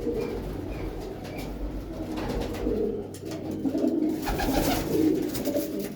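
Pigeons coo softly and repeatedly in a steady murmur, with faint chirps and rustling around them and no talking.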